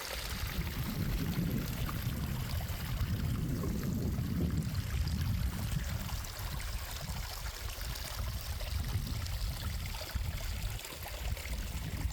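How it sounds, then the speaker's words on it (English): Running water of a mountain stream along a hiking trail in Sweden's Jämtland mountains, a steady rushing and pouring flow, close and continuous throughout with no voices. "The sound of running water is super calming"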